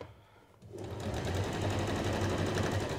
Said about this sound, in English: needle down, a couple of stitches back to lock it